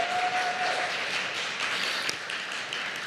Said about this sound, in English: I will hold for applause because they deserve it.